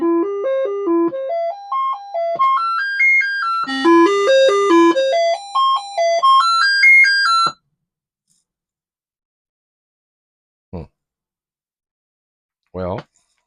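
A Commodore 64's SID sound chip plays test tones: clear, loud stepped beeping notes that rise and fall in quick arpeggio runs, then stop, leaving two short isolated chirps in the following silence.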